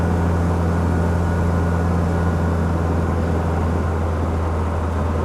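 A BMW engine with untuned carburettors idles steadily just after a cold start, a loud, constant low drone with a deep, even hum and no talking over it.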